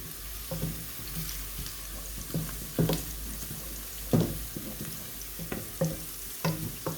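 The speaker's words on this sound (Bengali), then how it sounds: "তাড়াতাড়ি হবে পেঁয়াজটা ভাজা।" Onions frying in a pan on a stove for a Bangladeshi recipe, with steady sizzling and repeated sharp scrapes and clinks as they are stirred.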